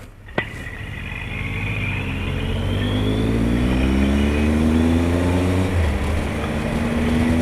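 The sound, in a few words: car passing by on road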